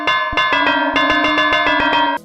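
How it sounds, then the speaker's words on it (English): In the dating game Hooked on You, the Wraith rings his bell in a rapid, loud, metallic series of tolling strikes that run steadily for about two seconds, then stop. "Wraith wakes us up with the gift of his bell."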